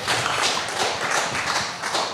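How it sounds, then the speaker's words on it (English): Polite audience applause greets heavyweight boxer Pete Naylor as he steps up at a Manchester boxing press conference, a steady patter of many hands clapping for a couple of seconds without talk. "Round of applause"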